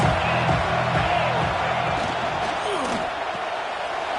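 A stadium crowd in College Football 26 roars steadily throughout a big third down in a Florida Gators versus Tennessee Vols game, a dense, loud wash of cheering with no break.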